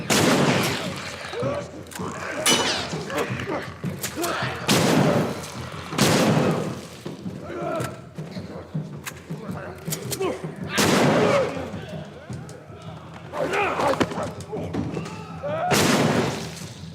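Repeated gunshots ring out in The Last of Us Remastered on PS5, loud sharp blasts at irregular intervals with echoing tails, a few close together, under faint background noise.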